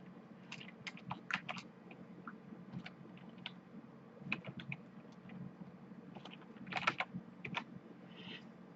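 Quiet, close computer keyboard typing while entering a password, with irregular bursts of light key clicks and taps separated by short pauses.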